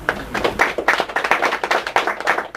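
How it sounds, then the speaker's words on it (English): An audience claps together in a dense, steady burst of applause, close and fairly loud, with no talking over it. "Give yourselves a big round of applause."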